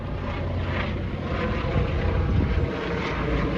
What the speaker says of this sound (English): Got a helicopter over there.